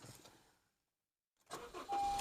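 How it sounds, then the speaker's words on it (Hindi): A car engine is started with the ignition key: after a short silence, the starter cranks and the engine catches, settling into a steady idle close by. "ये गाड़ी स्टार्ट हो गई और चाबी वापस ऑन मोड में आ गई।"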